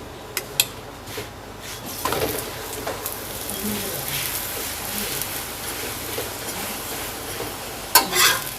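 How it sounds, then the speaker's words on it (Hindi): Besan missi roti cooks on a tawa griddle with a soft, steady sizzle and occasional scrapes and taps as it is turned, plus a couple of sharp clinks at the start and a burst near the end. "ऐसे ही इसको पलट पलट कर पकाते जाएंगे जब तक इस पे हल्के हल्के सुरख से निशान ना आ जाएं।"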